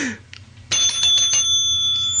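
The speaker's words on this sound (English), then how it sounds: "Oh, a bell?" A bright bell rings out sharply after a quiet moment, its clear metallic tone sustaining and ringing on with a couple of repeated strikes, loud and close.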